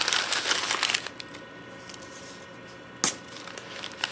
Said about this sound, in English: I'm going to just crumple this up into a light ball